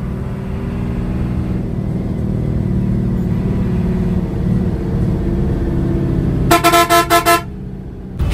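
Heavy traffic jam on a road at Hemayetpur, with a constant low rumble of idling engines and, near the end, a burst of rapid, loud car horn honks.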